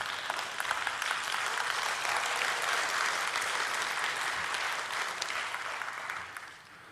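A church congregation claps through a Sunday afternoon worship service, a steady even wash of applause that holds for several seconds before tapering off at the end.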